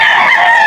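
A rooster crows loud and close at a crowded Christmas-season chicken market in Malolos, one short, sustained call that fills the moment with no speech over it.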